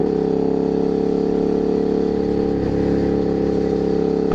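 A KTM 990 SMT motorcycle rides along country roads, its engine droning loud and steady from the rider's position, with a slight shift in pitch near the end.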